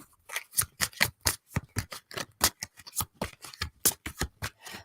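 A deck of tarot-style cards being shuffled by hand, a steady run of crisp riffling and flicking bursts, close and fairly loud, with no talking.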